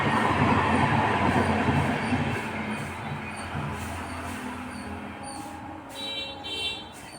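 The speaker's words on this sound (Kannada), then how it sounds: "ನೋಡಿ ರೈಲ್ ಹೋಗ್ತಾ ಇದೆ, ರೈಲಿನ ಸೌಂಡ್ ಇದು." A train runs past near a house, a loud steady rumble and rattle of wagons that slowly fades, with faint clacking and a few squeals toward the end.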